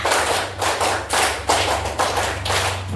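Schoolchildren in a class clap together in a counted rhythm game, sharp group claps in short bursts repeating across the moment, loud and close with no talk over them.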